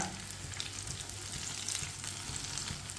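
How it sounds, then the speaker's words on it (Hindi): Pakoras frying in oil in a pan over a medium flame and being stirred with a spoon, a dense continuous sizzle and crackle with occasional scraping clinks of the spoon, close and steady. "इसी तरह इसे चम्मच चलाते हुए पका लेना है, घुमाते फिराते।"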